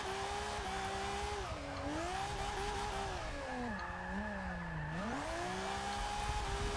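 A 1969 Nissan Fairlady Z drifts in Forza 6, its engine droning and rising and falling in pitch with throttle shifts while tires squeal, loud and continuous throughout with no voices.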